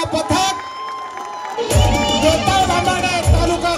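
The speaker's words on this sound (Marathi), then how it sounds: "जोरदार टाळ्या होऊन जाऊ द्या" A crowd cheers, shouts and claps at a Govinda pathak human pyramid salute of seven tiers, loud and close with whoops and a deep drum beating, under an announcer's voice over a loudspeaker.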